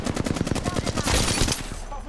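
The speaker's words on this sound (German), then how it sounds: "Auf mich wird's geschossen." Close, loud rapid-fire automatic gunfire from the video game Apex Legends, a dense stream of quick shots that runs the whole time and swells into a heavier burst midway.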